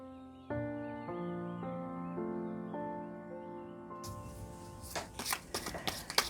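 Tarot cards are shuffled and drawn after a stretch of soft music, with a run of quick papery riffles and taps in the last couple of seconds, close and moderately loud.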